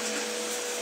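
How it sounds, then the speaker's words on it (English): A vacuum cleaner drones steadily in the background, a constant even whir with no changes through the brief moment. "The vacuum in the background."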